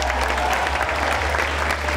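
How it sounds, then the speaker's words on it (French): A crowd at a retirees' gala applauds Pierre-Luc Racine as he comes on stage, a loud, dense stretch of many hands clapping over a steady low hum from the sound system. "bonne main d'applaudissement, Pierre-Luc."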